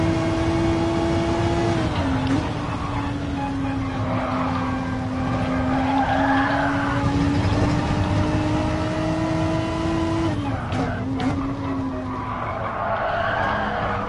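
Tires squeal and skid as a GT3 race car's rear steps out in GT Sport, a long sustained scrub riding over steady engine drone, with the pitch dipping at moments and a second squeal later on.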